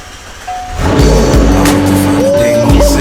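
A BMW 2020 M2 Competition starts up nearby, a loud rising engine roar that swells from a quiet idle into a steady throaty rumble with revving tones, without talk.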